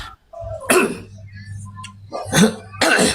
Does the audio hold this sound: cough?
yes